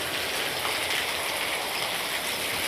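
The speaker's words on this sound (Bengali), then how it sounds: "চরম লেভেলের বৃষ্টি হচ্ছে আজকে।" Torrential downpour pounding steadily outdoors, a dense continuous hiss of heavy rain with no letup, close and loud throughout.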